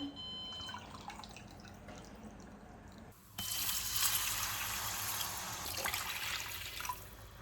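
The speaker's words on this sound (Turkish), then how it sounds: "Şimdi suyu ekleyeceğim" Water pours into a pot of rice being cooked for pilaf in a home kitchen, starting with light drips and then a steady, louder rushing pour that continues to the end.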